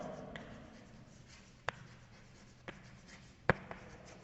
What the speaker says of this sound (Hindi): पहले इसका डेफिनेशन लिख लेते हैं